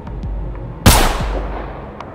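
A single loud, sharp gunshot cracks close by in a tactical close-quarters setting and echoes off briefly, with quiet background noise before and after.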